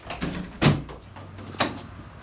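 An elementary school door as a tour group walks out, giving a couple of soft thuds and clunks amid shuffling movement, fairly close and moderately quiet.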